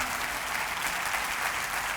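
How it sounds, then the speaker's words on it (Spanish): Church congregation applauding during a Spanish-language sermon, a steady dense wash of clapping filling the whole stretch at moderate level with no voices standing out. "Ahora sí aplaudan"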